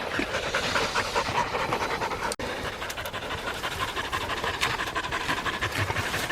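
A dog named Poe pants steadily and close by, a continuous breathy rasp that runs nearly the whole time with one brief break partway through.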